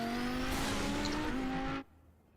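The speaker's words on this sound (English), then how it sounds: "Oh, so you are in a really loud car." A loud racing car engine roars at high revs with a steady tonal whine, then cuts off abruptly, leaving faint background hum.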